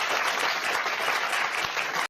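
A studio audience at a televised political debate panel bursts into loud, dense applause, a steady wash of clapping hands that carries on at full strength for about two seconds, then stops abruptly.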